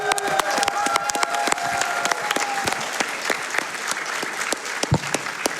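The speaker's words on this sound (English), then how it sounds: "Let's get another round of applause for them." An audience applauds speedrunners at a summer gaming event, dense steady clapping from a large crowd lasting throughout, with a faint voice briefly audible early on.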